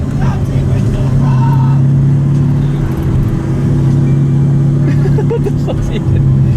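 A V12-swapped Toyota Supra engine revving with a loud, steady, droning roar that holds throughout, while people talk and shout over it.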